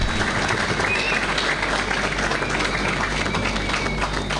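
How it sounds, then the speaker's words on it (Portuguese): A crowd at a political party president's speech gives loud, sustained applause, dense clapping filling the space evenly throughout. "uma salva de palmas bem fortes para a Associação Médica."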